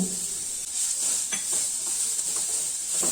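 Chopped onions sautéing in a pan with turmeric powder, asafoetida and salt for potato bonda filling, giving a steady close hiss and sizzle with faint stirring scrapes throughout.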